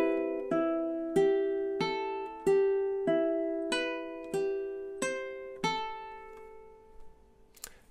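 Ukulele picks out a slow melody from a Hawaiian song, about a dozen clear plucked notes at a steady pace, each ringing and fading, close and fairly soft, with no talking.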